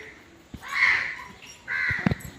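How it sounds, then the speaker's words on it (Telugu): Crows cawing around a village temple, two harsh caws a moment apart, fairly close and clear over quiet background. "కాకులు ఉన్నాయి."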